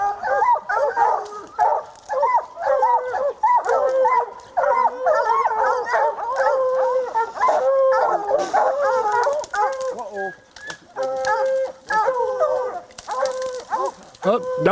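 Hunting dogs bay loudly and continuously at a mountain lion treed in the wild. Their overlapping howls and yips are close by and almost unbroken, with brief gaps.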